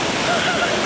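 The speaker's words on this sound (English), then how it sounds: "It's the biggest waterfall ever." A big waterfall gives off a steady, loud, full-bodied rush of falling water, a continuous broadband roar across the whole brief moment.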